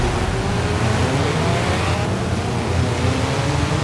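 A stock Toyota Celica and Ford Escort race side by side in Forza Horizon 4, engines roaring loud and continuous as they accelerate together, with tire noise and a steady, close, rising drone and no voices.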